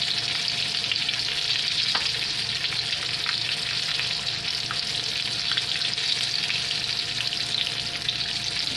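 Food frying in hot grease in a pan, a steady close crackle and sizzle with occasional small pops, continuous throughout with no voices.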